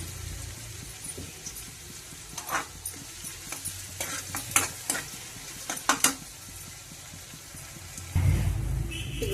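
Onion pieces sizzle in hot oil in a pan for chicken curry, a steady close crackle broken by several sharp spatula stirs and scrapes, louder frying bursting up near the end.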